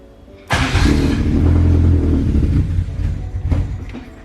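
An engine-swapped Toyota AE86 catches and fires up after a short lead-in, its engine settling into a loud, rumbling idle with a slight dip and uneven pulses toward the end.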